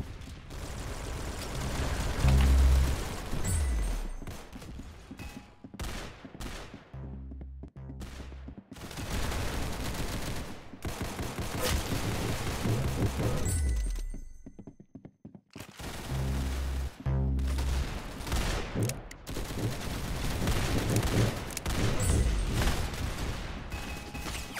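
Rapid gunfire in Roblox Arsenal, dense bursts of automatic shots and single cracks in close succession across most of the stretch, with brief lulls between engagements.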